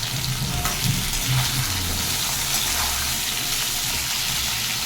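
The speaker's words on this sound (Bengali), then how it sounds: "সঙ্গে দিয়ে দিচ্ছি আলু, কুমড়ো, বেগুন। দিয়ে দিচ্ছি 1 চামচ নুন। এটাকে আমি ভালো করে ভেজে নেব।" Potato, pumpkin and eggplant fry with five-spice (panch phoron) and salt, making a loud, steady sizzle with occasional stirring scrapes close by.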